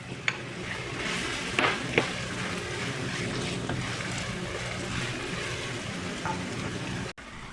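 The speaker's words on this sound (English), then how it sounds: "Now I will add the finely chopped onions, and we will fry the onions till they become light brown." Finely chopped onions fry in hot oil for a Hyderabadi brinjal curry, a steady close sizzle with a few stirring knocks and clicks of a utensil against the pan, and no voices.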